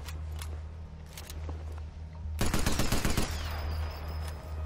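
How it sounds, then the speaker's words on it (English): Sten submachine gun fired in the video game Sniper Elite 4, a loud close burst of rapid automatic shots lasting about a second over steady game background ambience. "for a Sten, it sounds really loud"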